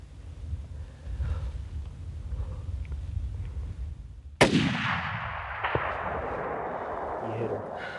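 A single loud rifle shot cracks midway through an elk hunt, breaking a quiet outdoor rumble and rolling off in a long fading echo.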